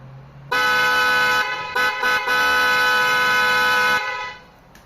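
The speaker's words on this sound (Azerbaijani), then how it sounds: "Bu Lexus siqnalı." An original Lexus car horn blares loud and close, a rich multi-tone blast held for about a second, then several quick toots and a longer sustained honk that cuts off abruptly.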